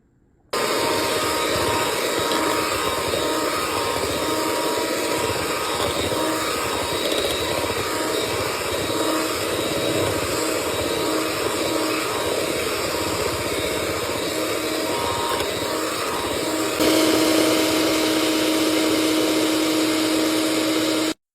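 An electric mixer runs steadily, beating egg whites, sour cream and vanilla into white cake batter, a loud continuous whirring drone with a slight shift in pitch near the end, no talking.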